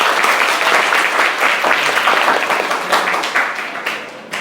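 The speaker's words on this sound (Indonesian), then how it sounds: "Ya, jadi tepuk tangan dulu untuk diri kalian." Classroom of students applauding together, a dense, loud patter of many hands clapping continuously, slowly thinning toward the end.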